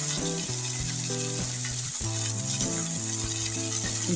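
Black val beans frying in a pan with onion and garlic give a steady, close sizzle that runs unbroken beneath tonal background music.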